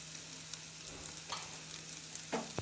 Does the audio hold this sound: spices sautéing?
yes